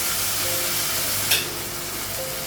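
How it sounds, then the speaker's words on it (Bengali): Spices with turmeric, ginger paste and garlic paste frying in a pan give off a steady, close broadband sizzle with a brief louder hiss burst midway. "মশলাগুলো একটু ভেজে নেবো।"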